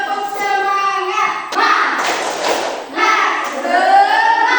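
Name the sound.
children clapping a spirited clap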